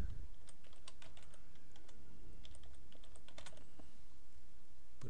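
Keys clatter on a computer keyboard as a username and password are entered, quick bursts of close, fairly faint clicks with short pauses, no speech.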